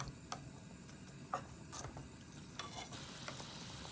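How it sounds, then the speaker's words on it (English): Onions simmering in katsudon sauce in a pan, a faint soft sizzle and bubbling with a few light scrapes and taps from stirring, quiet and steady throughout. "While heating the sauce, mix it well."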